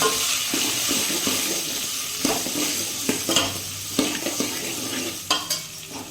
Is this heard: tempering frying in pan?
yes